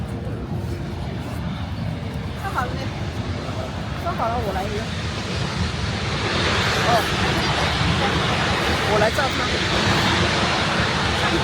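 Niagara Falls roars as a broad, steady wash of rushing water mixed with wind buffeting the microphone, growing louder partway through, while someone talks over it.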